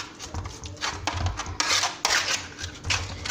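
Çiğ köfte mixture of onions, tomato paste and salt being worked by hand in a bowl, with irregular close scraping, squelching and clinking pulses, loud and alone.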